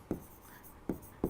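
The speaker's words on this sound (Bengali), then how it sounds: "একটু সুন্দরভাবে লিখি" Pen or marker strokes on a board or paper while handwriting numbers, three short scratchy strokes close up in a quiet room.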